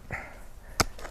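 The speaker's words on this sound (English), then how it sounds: "you can hear the smack when you hear that hit that" An air gun pellet smacks into a shooting target once, a sharp close crack standing out after a softer earlier thump, in a quiet outdoor setting.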